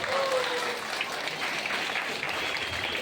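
An audience at a Kannada event breaks into loud, dense applause, many hands clapping steadily together and filling the room, with a faint tone audible briefly at the start.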